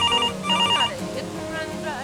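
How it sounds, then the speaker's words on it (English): A telephone rings nearby in a few short, bright electronic bursts with brief gaps between them. A voice may also be faintly present. "Phone ringing."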